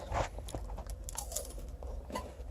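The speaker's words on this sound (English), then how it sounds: "did you guys hear the crunch? It was like super crunchy." Someone bites into a crunchy Kicker green tea chocolate bar, giving a close, quiet crunch followed by a few softer crackles and chewing noises.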